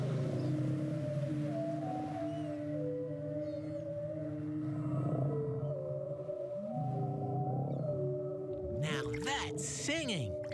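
Whale song in an animated cartoon: long, wavering tonal calls that glide up and down over a steady low underwater hum, with sweeping swoops near the end.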